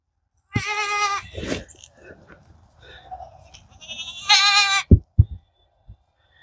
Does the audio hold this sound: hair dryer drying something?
no